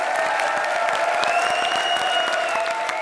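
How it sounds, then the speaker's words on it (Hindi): Audience applause greets a comedian walking onto a stand-up comedy stage, a dense, even wash of clapping with a sustained tone running underneath. "जोरदार तालियों से इनका स्वागत कीजिए"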